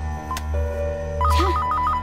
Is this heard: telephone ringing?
yes